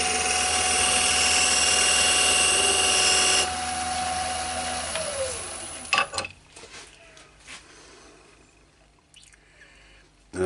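A wood lathe spins a small turned box while a light shaving is taken, a loud steady whine that suddenly quietens, then winds down to a stop, leaving faint knocks and handling noises.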